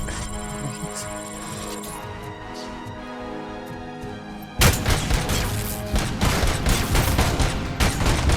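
Heavy gunfire bursts out partway through after a stretch of quieter game music and ambience in RoboCop: Rogue City, a dense, loud barrage of rapid shots and booms continuing to the end.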